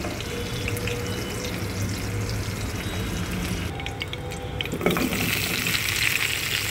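Vegetables frying together in hot oil in a pan for a Bengali vegetable and prawn curry, a steady close sizzle with occasional stirring scrapes and no talking.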